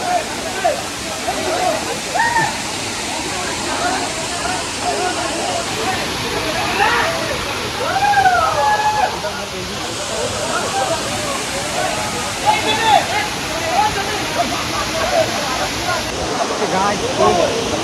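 Lihonjar waterfall in Karbi Anglong roars continuously with a broad rushing wash of falling water, loud and close, while people talk over it and bathers are nearby.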